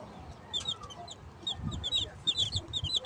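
Kanawayon cross chickens cluck and chatter close by in short, irregular bursts over a faint background rustle.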